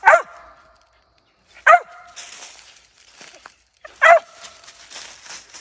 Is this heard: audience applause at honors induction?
no